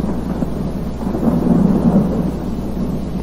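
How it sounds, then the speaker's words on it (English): Thunder in the Don't Scream video game rolls as a loud, continuous low rumble with rain-like hiss, swelling in the middle and fading slightly toward the end. "Was that thunder?"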